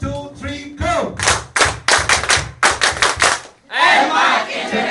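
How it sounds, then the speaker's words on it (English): An audience at an Edmark International leaders meeting in Kota Kinabalu claps together in a loud, rhythmic pattern of bursts, mixed with chanting and shouting voices, then breaks into a burst of cheering. "Can you please stand up and give Marie Chris a big Edmark International clap?"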